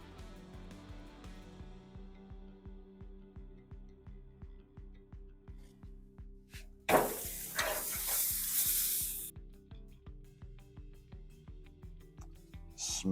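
Beef heart searing on a grill, a steady crackling sizzle over a rhythmic low thumping background, with a loud burst of hissing midway as more meat hits the hot surface.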